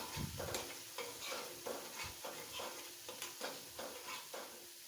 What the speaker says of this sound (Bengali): টক দইটা দিয়ে ভালোভাবে মিশিয়ে নেব